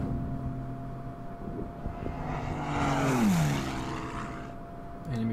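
An enemy aircraft engine in the strategy game Order of Battle, a steady propeller drone that swells and sweeps downward in pitch as the plane passes and turns, over a constant low background hum, no voices.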